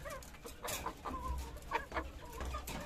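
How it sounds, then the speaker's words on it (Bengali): Native country chickens and a rooster cluck and call in a farmyard, several short bursts from nearby birds over a soft background, with no speech. "এই হচ্ছে দেশি মোরগ, এই হচ্ছে দেশি মুরগির বাচ্চা"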